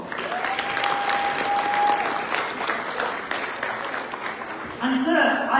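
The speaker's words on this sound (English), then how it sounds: "please give yourself a big round of applause" Sustained audience applause from a large crowd at a charity fundraising event, steady and loud throughout with a brief whistle-like tone early on and a swell of cheering near the end.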